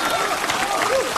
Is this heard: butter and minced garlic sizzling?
no